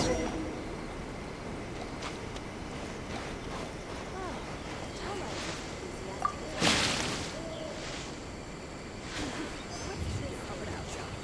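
Trees being watered in a video game, heard as soft splashing and dripping with one brief, brighter splash midway, set low under steady ambient sound and speech.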